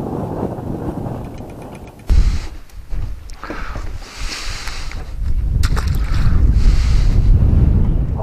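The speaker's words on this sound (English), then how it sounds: "the wind is just horrible all of a sudden" Strong wind buffets an open boat on a lake during bass fishing, a heavy continuous roar of wind noise against the microphone with low rumble and surging gusts throughout, no talking.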